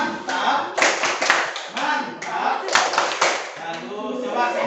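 A group of children doing the 'tepuk mantap' rhythmic clap in class, a series of sharp claps in quick patterns, close and lively, with voices chanting and talking throughout.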